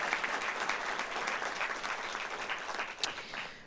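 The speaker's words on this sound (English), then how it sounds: "let's hear another round of applause for all the incredible inductees we've honored so far" An audience at a journalism Hall of Fame induction ceremony claps steadily, a sustained round of applause heard close and continuous.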